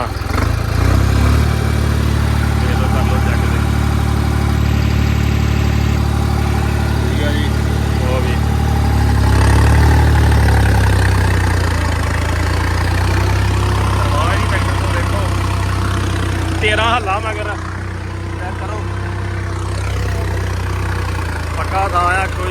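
A New Holland 3630 Special Edition tractor engine idles steadily with a deep throbbing rumble, revving briefly midway while someone talks over it.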